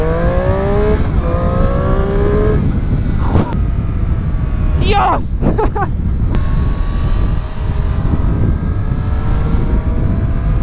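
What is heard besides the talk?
Triumph Street Triple S motorcycle engine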